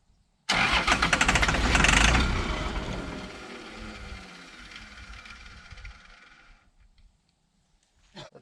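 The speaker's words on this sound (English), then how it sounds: "Let that starter cool off after a minute. Let's try her again." A 1994 Isuzu cab-over truck that has sat unused for three years is cranked by its starter: one long, loud grinding whir that slowly fades over about six seconds without catching, then silence.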